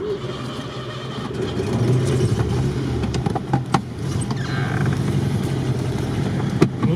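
A ZAZ-968M or first-generation Land Rover Discovery, its tyre chains just removed, pulls away on an off-road track with a steady, mid-loud engine drone that swells as it gets under way.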